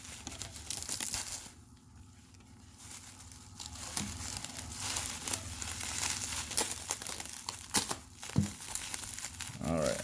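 Pokemon card package being wrapped for grading submission, with crinkling and crumpling of wrapping material in bursts and a few sharp tearing rustles, recorded close and fairly quiet, with faint talk in places.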